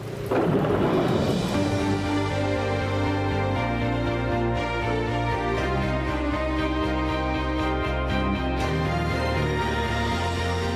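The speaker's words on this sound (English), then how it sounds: "there's a storm coming to Emmerdale" A thunderstorm with heavy rain and rolling thunder, a loud continuous roar that swells in after a moment and stays dense and rumbling throughout, with no voices.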